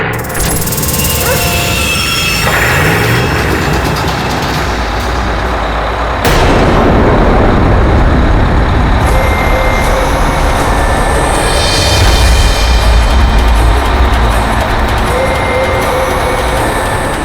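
A heavy vehicle engine starts and rumbles steadily, with a sharp hiss partway through and a louder, deeper roar building toward the end.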